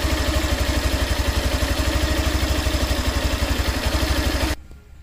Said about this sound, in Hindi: इंजन का भी साउंड सुन लो आप।